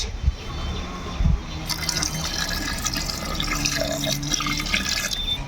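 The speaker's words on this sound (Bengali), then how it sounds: "এবার দিয়ে দিব আদা রসুনের রস" Ginger-garlic juice is poured over mutton and potato pieces in a cooking pot for biryani, a steady close liquid trickle and splash, with a soft voice at times.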